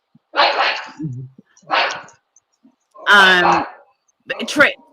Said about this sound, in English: My dog is bothering me.